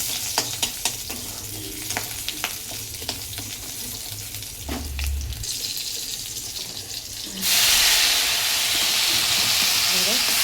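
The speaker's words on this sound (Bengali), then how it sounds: "দিয়ে শাকটাকে ভাজবো" Jute leaf greens frying in a wok with oil, nigella seeds, garlic paste and green chillies: close sizzling and clattering stirring strokes, then a louder, brighter rush of hissing that continues steadily to the end.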